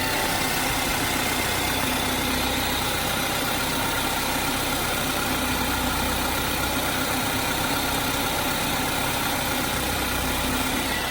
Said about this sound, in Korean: 엔진 룸 소리도 한번 직접 들어보도록 하겠습니다.